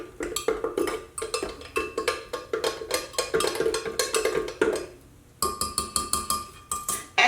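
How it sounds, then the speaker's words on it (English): A spoon scrapes and clinks against the sides of a blender jar holding a hemp-protein smoothie, in rapid repeated strokes with a short pause near the end, close and loud with no talk. "I'm gonna take my peanut butter spoon and I'm just gonna scrape the sides"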